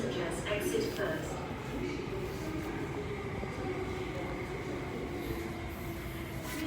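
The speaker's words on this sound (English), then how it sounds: "The train to Tianmun is arriving." A Tuen Ma Line train arrives at Sung Wong Toi Station with a steady low rumble and hum, and faint rail squeal and station noise above it.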